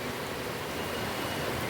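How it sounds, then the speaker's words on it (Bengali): Heavy monsoon rain pours down in a dense, steady hiss close by, with no pauses or other sounds. "এখন আবার একদম মুসুলধারে শুরু হলো বৃষ্টি।"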